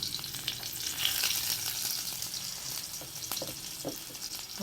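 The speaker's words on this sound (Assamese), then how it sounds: "পিঁয়াজখিনি দি দিলোঁ।" Onions dropped into hot oil for an Assamese kosu-leaf khar with jackfruit seeds, sizzling steadily with scattered stirring scrapes and pops, close and moderately quiet, no talk.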